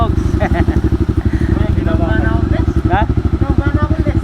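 Several motorcycles idle and rev close by at the start of a trail ride to Ilog Balumbong, Hacienda Dolores, Porac, Pampanga, with loud, rapid engine pulses and people talking over them.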